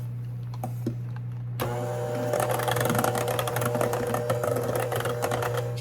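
An electric mixer starts after a quiet moment and whirs steadily up close as batter with baking powder, salt, pepper and egg yolks is gently blended in a bowl, the beaters rattling lightly in a busy, even drone.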